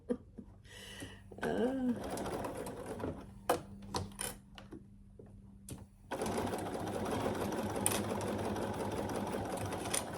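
A domestic sewing machine stitches a pouch in quiet bursts, its rapid whirring needle running steadily for several seconds near the end, with soft handling clicks and pauses between runs.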